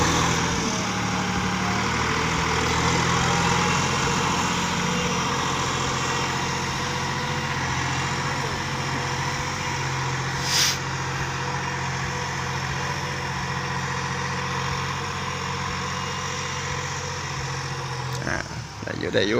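A Massey Ferguson MF4707 72-horsepower tractor engine runs steadily up close with a low, chugging drone, while someone speaks briefly over it.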